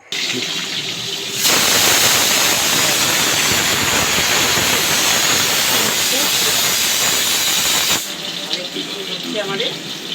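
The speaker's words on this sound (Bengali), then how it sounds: "ওদিকে পবিত্র ইলিশ মাছ কটা ভেজে নিচ্ছে" Hilsa fish fry in hot oil in a home kitchen pan, a loud steady sizzle and hiss that starts abruptly, runs for several seconds and then drops away.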